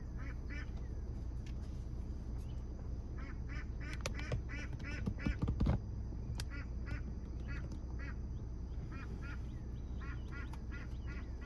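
Repeated nasal honking calls in quick, rhythmic bursts, fairly steady throughout, over a constant low background rumble.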